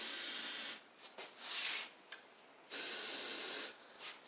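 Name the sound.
carb spray aerosol can spraying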